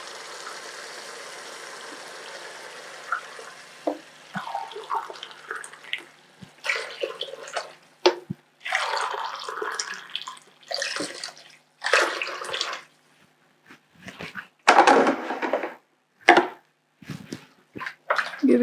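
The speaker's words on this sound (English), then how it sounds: "So we are going to add 4 cups of water." Water from a cup is poured into a cooking pot for rice in repeated short bursts with splashing and trickling, separated by pauses, close and fairly soft, no talk.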